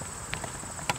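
Horse hooves clip-clopping on an arena surface during a jumping lesson, a few light, irregular thuds over a steady high insect-like hiss, fairly faint and without talk.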